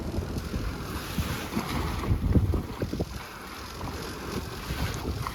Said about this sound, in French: des vents violents et une énorme houle viennent nous secouer au mouillage